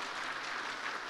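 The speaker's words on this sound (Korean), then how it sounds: "일단 박수로 한번 축하하겠습니다" A church congregation gives a brief, steady burst of applause during a Sunday worship service, heard without talk.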